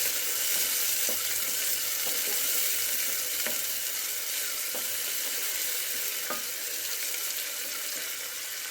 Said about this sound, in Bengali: পেঁয়াজ কুচিগুলো আমি তেলের মধ্যে দিয়ে দিলাম। এবার নেড়ে চেড়ে হালকা লাল করে নেব।